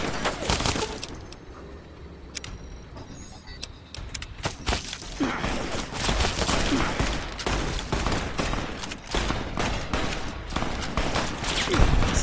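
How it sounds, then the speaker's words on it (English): A companion fires guns in Fallout New Vegas, with repeated sharp shots and rapid bursts scattered throughout, mixed with other game sounds at moderate loudness. "Still shooting, goddammit."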